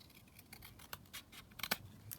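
Scissors trim gold-edged paper ephemera on a craft desk, a few quiet snips and paper rustles, with one sharper cut near the end, close and faint.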